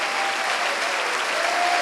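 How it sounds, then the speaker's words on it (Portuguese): A church congregation claps together in dense, continuous applause, loud and even throughout. "vamos dar uma grande salva de palmas para a palavra do Senhor Jesus"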